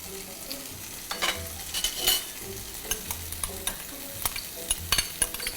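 Vegetables and garlic sauté in a pan, a continuous sizzle broken by frequent clinks and scrapes of a utensil stirring, close and fairly loud, with no one talking.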